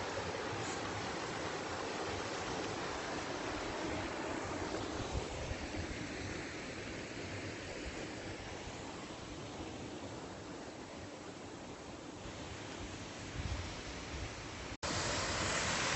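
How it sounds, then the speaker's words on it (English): Steady, dense rushing of a waterfall on a hiking trail in Iztaccihuatl-Popocatepetl National Park, a constant broadband roar heard from nearby with no voices, briefly cutting out near the end. "So here's the other waterfall we heard a few seconds ago"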